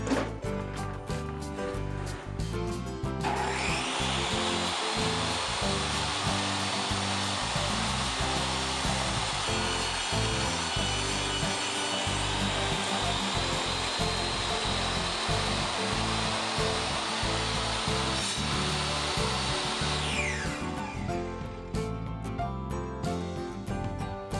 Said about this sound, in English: trim the back piece just down, just a hair on the table saw